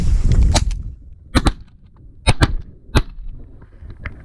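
Several shotgun blasts fired at waterfowl on a duck hunt, coming as sharp, loud cracks: one early, a close pair, another close pair, then a single shot, with quieter pops between them and outdoor background noise.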